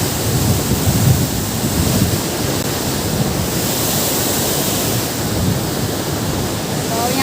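Steady, loud broadband roar of rushing water from a mountain waterfall in the Darma Valley, continuous and unbroken throughout with no voices over it.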